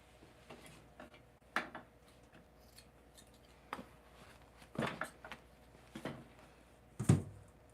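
Scissors trim fabric for a chair reupholstery, making scattered soft snips and crisp cuts, close but quiet, with irregular gaps between them.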